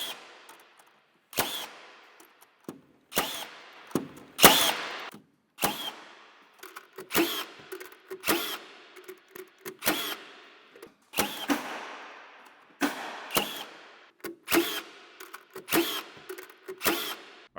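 Sharp nail-gun bangs fire in quick bursts of one to three shots, nailing joist hangers on I-joists, separated by short pauses, over about a dozen rounds in a quiet space.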